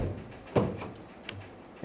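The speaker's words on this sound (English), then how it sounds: "Check the functionality of the door handle," A 2011-2014 Hyundai Sonata front exterior door handle is pulled and released, giving one clear mechanical clack and a lighter click after it, close and isolated against a low hum.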